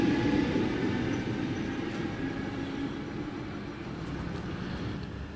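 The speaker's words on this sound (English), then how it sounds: "And Waratah Series 1 set A52 now departing platform number 1 for Hornsby via North Shore service" A Waratah Series 1 electric train pulls away from a station platform at night, producing a steady low rumble and a faint motor whine that stays moderately distant and even throughout.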